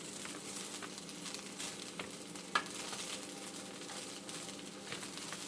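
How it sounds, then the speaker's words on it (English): Fried rice sizzling in a pan as eggs are mixed in, a quiet continuous crackle with soft scraping stir strokes and one sharp tap against the pan. "So now I'm going to mix some eggs in there."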